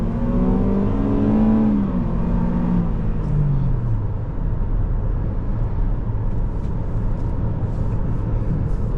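A 2023 Toyota Corolla Cross XLE engine while driving, heard from inside the cabin as a steady, throaty hum that rises in pitch and then settles into a continuous road drone.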